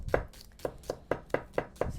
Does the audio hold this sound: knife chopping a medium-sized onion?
yes